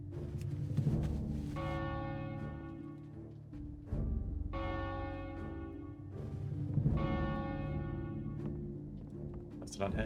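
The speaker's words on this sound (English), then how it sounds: "Go to the town hall building in Farshire and ring the bell inside of it." Bell ringing inside the Farshire town hall in World of Warcraft: three loud, resonant strikes a few seconds apart, each with a long ringing decay, over a steady low game background.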